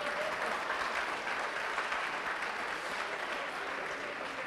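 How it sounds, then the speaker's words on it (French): An audience at a conference closing session applauds steadily, a dense even wash of many hands clapping at moderate distance, with no voices on top. "si vous pouvez les réapplaudir"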